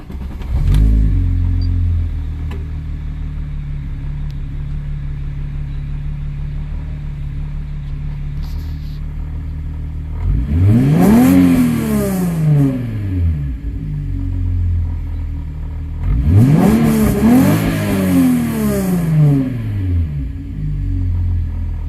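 A 1993 Volkswagen Corrado engine idles steadily, then revs twice in strong rising-and-falling sweeps separated by a few seconds, close and loud with no talking.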